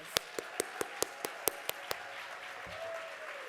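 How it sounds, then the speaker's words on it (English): A short run of evenly spaced, sharp hand claps greets the choir Sing Harlem at an arts conference. The claps are crisp and fairly close, and they stop after about two seconds, leaving a faint sustained tone. "let's give them a round of applause"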